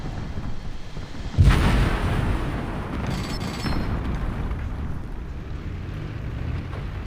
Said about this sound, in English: how many vehicles did I just destroy there with the Revenge Bomber?